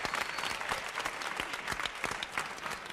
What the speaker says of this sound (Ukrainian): ще раз гучні оплески для нашої чарівної пари